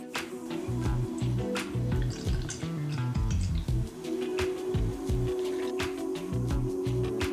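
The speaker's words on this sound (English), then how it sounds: "So I'm just going to pour in the base." Liquid diffuser base for an apple pie scent with cinnamon and vanilla essential oils is poured into a container, giving close, quiet gurgling drips and wet splashes in an uneven stream, without talk.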